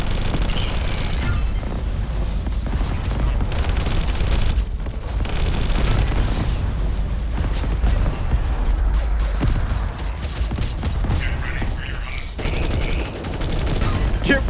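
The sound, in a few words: grenade explosion in video game Echo Point Nova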